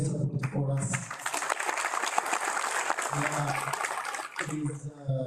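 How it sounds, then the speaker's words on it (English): Audience applause at a research conference award ceremony, a dense, steady wash of clapping lasting several seconds, with a speaking voice audible at the start and again near the end. "please give them applause"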